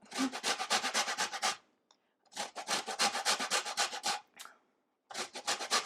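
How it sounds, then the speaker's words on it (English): Rapid rhythmic rasping of a grater scraping back and forth, in three quick bursts separated by short pauses, close and fairly loud. "Try and zest quickly."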